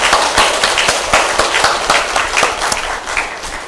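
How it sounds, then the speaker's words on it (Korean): A church congregation claps warmly during a Sunday morning worship service, a dense, sustained round of applause from a full room that fills the whole stretch with steady, overlapping claps. "우리 하나님께 한번 힘차게 뜨거운 박수로 하나님께 감사를 드리도록 하겠습니다."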